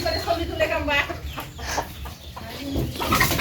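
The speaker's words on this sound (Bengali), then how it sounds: "খালি মুরগি" Tiger hens on a farm cluck repeatedly in short, choppy bursts nearby, mixed with voices talking in the background.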